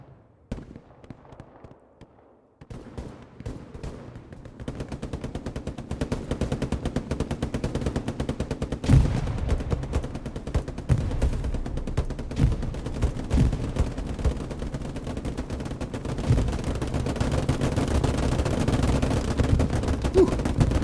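Gunfire in the video game Hell Let Loose rattles almost nonstop as dense machine-gun bursts and rifle shots, loud and continuous after a quieter opening couple of seconds.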